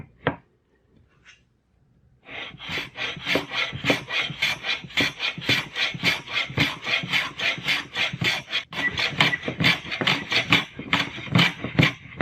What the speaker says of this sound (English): start making a 45-degree chamfer